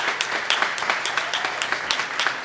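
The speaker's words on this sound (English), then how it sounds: "Let's give our honorees a round of applause before we even get started" A crowd at a Women's History Month celebration in Brooklyn applauds its honorees, a lively patter of many hands with sharp individual claps standing out, steady and fairly loud, with no talking.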